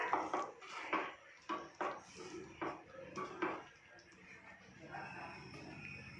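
A pot lid lifted off and mixed vegetable curry stirred with a spoon, giving several knocking metal clanks and scrapes at a moderate level, with a quiet voice underneath.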